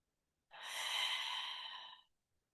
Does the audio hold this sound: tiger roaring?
no